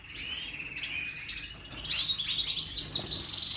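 Canaries sing in bright, rapid trills and chirps, with several birds overlapping at close range, the song swelling louder in the second half with no voices present.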